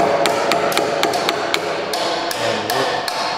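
A chisel is struck into a wooden cross beam in a series of sharp, irregular hammered knocks, close and loud, with no voices.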